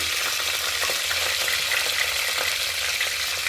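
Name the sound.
mint leaves and green chilies frying in a pan for mutton curry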